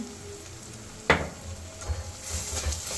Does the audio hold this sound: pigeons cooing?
no